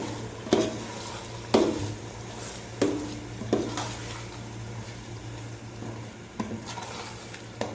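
Chicken frying in a pot with soaked daliya (broken wheat) for a Saudi-style soup, a steady low sizzle broken by several sharp stirring scrapes and clanks of the spoon against the pot, with no talking.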